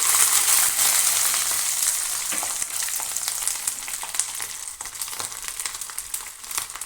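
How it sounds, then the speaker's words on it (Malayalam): Garlic frying in a pan while browning for a Kerala-style beef pickle, a bright continuous sizzle with occasional stirring scrapes that eases off slightly over time. "കളറൊക്കെ നല്ല ബ്രൗൺ കളർ ആകുന്നത് വരെ ഒന്ന് ഫ്രൈ ചെയ്തെടുക്കാം"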